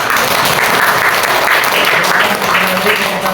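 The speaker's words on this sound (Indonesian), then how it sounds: "Berikan aplaus buat kelompok 1." Steady applause from a classroom audience of teachers in training after a group finishes presenting on Islamic marriage law, dense clapping throughout at an even loudness with no pauses.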